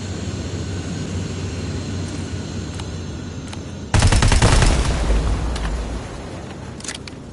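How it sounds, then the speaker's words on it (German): Helicopter in a Terminator game on PS5, a steady mechanical drone running throughout, then a loud burst of rapid gunfire and blasts in the middle that fades back into the engine hum, with a few sharp reports near the end. "Oh, der Heli nervt."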